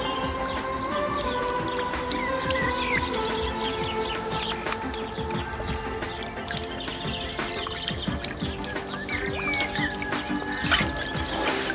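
Water drips steadily from an improvised survival filter outdoors, small irregular drops under continuous birdsong and chirping.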